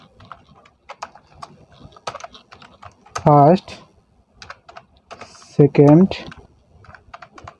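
Fingers tap out position numbers on a computer keyboard in Microsoft Word, giving quick light clicks in short bursts, close by, with someone speaking briefly between them.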